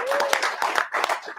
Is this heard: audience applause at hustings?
yes